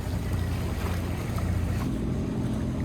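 A Catalina 36 sailboat cruises under motor with its genoa partly unfurled, giving a continuous low engine drone mixed with wind buffeting and rushing water, close and steady the whole time.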